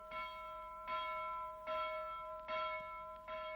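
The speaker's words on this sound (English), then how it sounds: "announces today with his loud get out of bed bell" Loud bell ringing to wake people in a seaside town, five evenly spaced bright clangs with ringing overtones, each decaying before the next strike.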